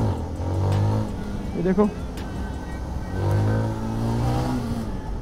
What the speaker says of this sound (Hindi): थ्रॉटल रिस्पॉन्स की बात करूँ ना भाई, निकलने को हो रही है